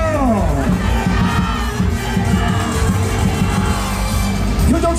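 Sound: rally crowd clapping and cheering

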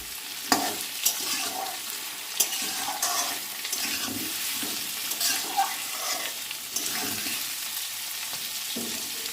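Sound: potatoes and onions frying in a pan

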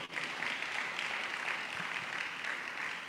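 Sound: audience clapping for Evangelist Helen

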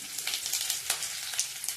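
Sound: cumin, curry leaves and chillies sizzling in oil

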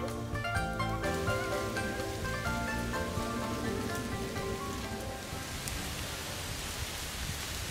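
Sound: rain falling

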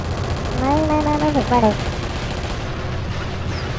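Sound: machine gun fire in a video game

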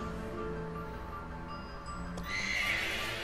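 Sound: horse neighing in video game Pokemon Sword

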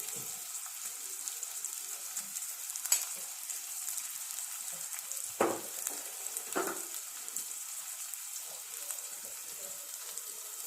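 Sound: onions frying in a pan

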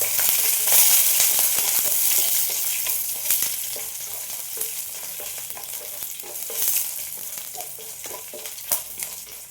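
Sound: garlic and chili frying in oil

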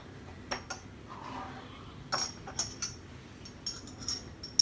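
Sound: spoon mixing food colouring into water in a container

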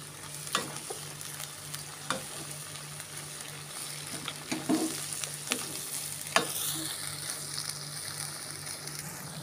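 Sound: stir-frying cap cay vegetables in a pan

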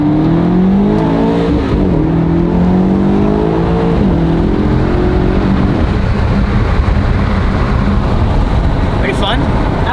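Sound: Lamborghini Urus accelerating in track mode

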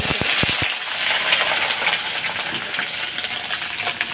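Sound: potatoes frying in oil with cumin tempering

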